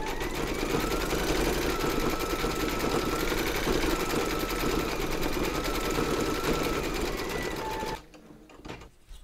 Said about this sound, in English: Load your matching bobbin and thread colour for the centre of the flowers into your machine and then stitch round number 14